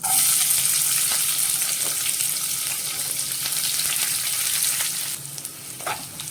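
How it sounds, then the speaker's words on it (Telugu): Onions and green chillies frying in a pan give a loud, bright sizzle right from the start that eases slightly toward the end, with a couple of soft stirring knocks and no talking. "ఇప్పుడు మనం ముందుగా కట్ చేసుకున్న ఉల్లిపాయలు, పచ్చిమిరపకాయలు వేయాలి."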